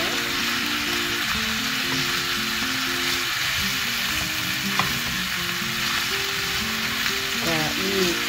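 Mixed vegetables for curry, lightly salted, stir-fry in a hot pan with a steady, dense sizzle and crackle. Frying noise runs continuously and fairly close throughout, with faint scraping of stirring.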